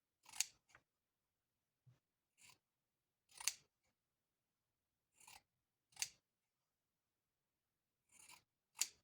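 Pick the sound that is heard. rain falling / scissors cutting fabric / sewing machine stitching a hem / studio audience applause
scissors cutting fabric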